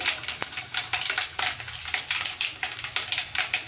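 Dried red chillies, garlic and tempering spices fry in oil for a Telugu black-eyed bean curry, a steady close sizzle broken by repeated short scraping stirs at a fairly even rhythm.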